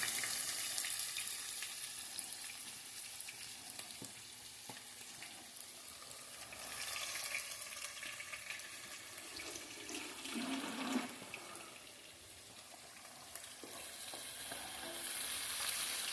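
Sliced onions frying in hot oil for a fish majboos make a steady, fairly quiet hiss and bubbling that swells and fades over several seconds, with some faint watery movement mixed in.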